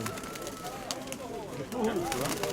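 Soft, low pigeon cooing rolls along in a steady murmur, with people talking nearby over it and a slightly louder stretch near the end.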